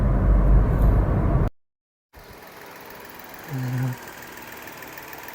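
A 2016 Nissan Almera 1.2 E Sportech engine idles with a low, steady rumble after a brief cut to silence, quiet and close, with no one talking.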